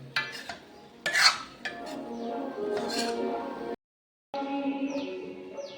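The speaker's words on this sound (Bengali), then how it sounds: "আরও 2-4 মিনিট এখন এরকমভাবে নাড়াচাড়া করবো" Vegetable curry being stirred in a pan, giving clinking spoon-on-metal scrapes and knocks at an uneven pace, fairly close, with a brief silent gap near the end.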